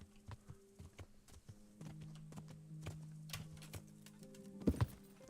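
Horse hooves clip-clop at a gallop in the medieval video game Kingdom Come: Deliverance, a quiet rhythmic patter of footfalls with low tones underneath and a louder thud near the end.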